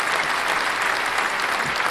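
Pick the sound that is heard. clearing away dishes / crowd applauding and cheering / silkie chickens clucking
crowd applauding and cheering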